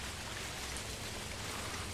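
Rain falls in Dinkum, a dense even hiss of drops with no gaps across the whole short stretch, moderately quiet and alone.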